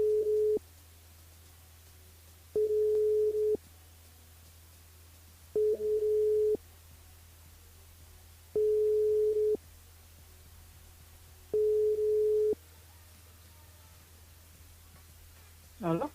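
An outgoing telephone call rings with five evenly spaced tones, each lasting about a second, over a low steady hum, heard during a live radio call to a listener.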